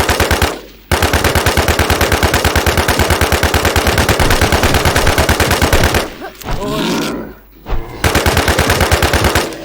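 Sustained automatic gunfire from a firefight in the video game WarZ, a loud rapid rhythmic burst running for about six seconds, a short pause with muffled noise, then another rapid burst near the end.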